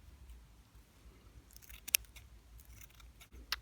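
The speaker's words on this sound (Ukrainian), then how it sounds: "Мені в цьому допоможуть ножиці." Scissors snip through fresh spring herbs in a few sharp, close clicks over a quiet background.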